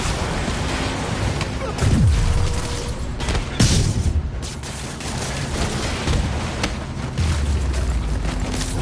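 Gunfire and booms in the Spider-Man PS4 video game, with several loud bursts and blasts standing out over a dense, continuous action din, mixed with game voices.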